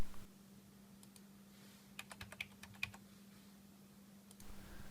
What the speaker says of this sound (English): open up your browser and type in your camera's new IP address